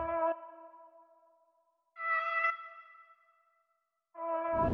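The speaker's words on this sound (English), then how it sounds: "It's the Dark Creatures preset by HZE." Ambient synth layer from the Dark Creatures preset in Analog Lab, playing three sustained, spacey harmonic chords that swell in and slowly fade, with silent gaps between them and no talking.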